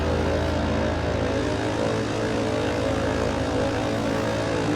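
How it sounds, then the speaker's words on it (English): A propeller plane taxiing at Grand Turk in Microsoft Flight Simulator, its engine giving a steady, loud, close droning hum with a constant buzzing tone that holds unchanged throughout, no voices. "Go ahead and taxi the plane to parking."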